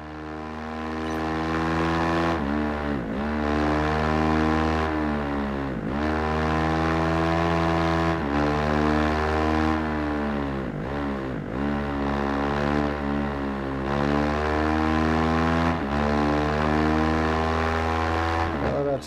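Racing motorcycle engine in the video game Ride 3, a loud sustained whine climbing steadily in pitch with several brief dips at gear shifts, close and continuous.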